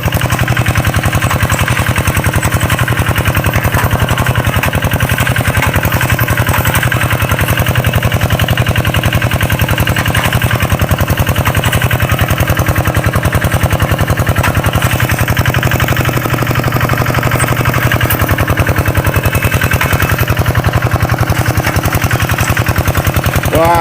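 A tractor tilling hard, thick-grassed soil to prepare a cassava field, its engine droning and rattling continuously and loudly with a steady labored chugging throughout, no voices.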